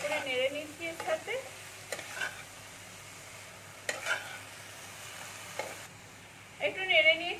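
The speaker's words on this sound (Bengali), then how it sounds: "এবার এই দুটোকে আমি ভালো করে মিশিয়ে নেবো পেঁয়াজের সাথে" Carrot and onion are stirred in a pan, with a low sizzle and intermittent bursts of scraping and tossing, louder at the start and end.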